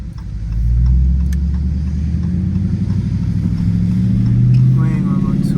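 A car revs and accelerates at night, its mid-range engine rumble rising and holding loud and close, with people talking over it inside the cabin.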